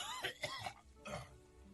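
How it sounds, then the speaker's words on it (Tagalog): A man with a worsening illness coughs repeatedly in a Tagalog drama, giving several quick, hoarse, close coughs in a short burst. "rinig na rinig ko yung ubo mo hanggang sa opisina ko"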